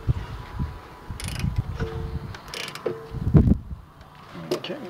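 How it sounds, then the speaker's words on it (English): A 3/8-inch ratchet turns a 14mm socket on a Toyota RAV4's rear brakes, giving a few bursts of quick, close clicking and mechanical creaking. "Under my 3/8 ratchet here, and my"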